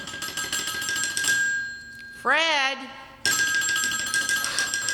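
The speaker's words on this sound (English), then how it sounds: "telephone's ringing. I hear it." A single ringing tone with warbling harmonics sounds for about a second amid a steady background hum, with a brief voice just before.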